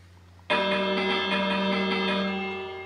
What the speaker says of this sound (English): let's go ahead and ding the bell.